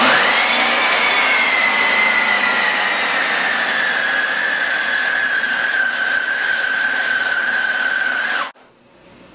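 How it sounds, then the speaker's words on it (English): A food processor mixes flour into Italian cookie dough with a loud, steady motor whine that holds for about eight seconds, then cuts off abruptly, leaving quiet. "We're going to put the food processor on and let it mix."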